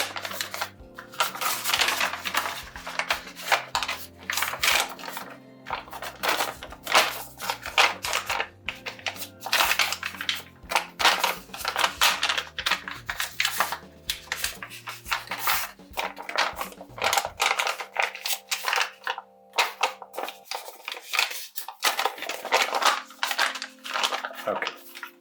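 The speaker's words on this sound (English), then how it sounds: "make sure you fold the diagonals both ways." Paper being creased and folded by hand for an origami tree, a steady stream of crisp crackles and taps, close and fairly soft, continuing with short pauses.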